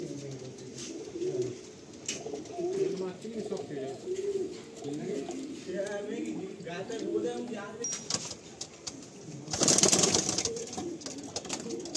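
Black pigeons kept for sale coo softly and repeatedly nearby, low murmuring calls running beneath a person's talk, with a brief rustle or flutter near the end.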